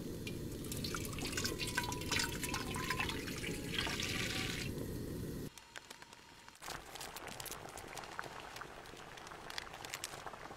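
Water pours into a pot for instant spicy ramen, a steady close splashing stream for several seconds, then it stops and gives way to faint drips and small clinks.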